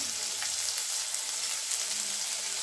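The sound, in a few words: spice paste added to frying pan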